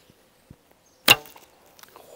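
A Crimean Tatar laminated bow looses a heavy arrow: one sharp, loud crack of the string release, followed by a brief rattling decay, with a few faint ticks before the shot.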